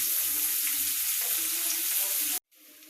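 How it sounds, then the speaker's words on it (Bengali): Onion and green chilli fry in a pan, giving a steady, loud sizzle with a little faint background noise. It breaks off abruptly near the end and then resumes more quietly. "পেঁয়াজটা ভাজা হয়ে গেলে উপকরণগুলো একে একে দিয়ে দিব।"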